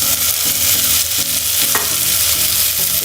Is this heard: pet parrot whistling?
no